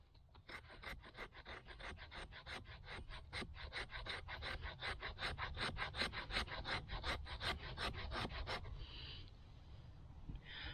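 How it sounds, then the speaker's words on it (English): A survival knife scrapes wood into curls and fine shavings in a quick, even series of rasping strokes, around thirty close scrapes over about nine seconds before they stop. "it's definitely doing some scrapings"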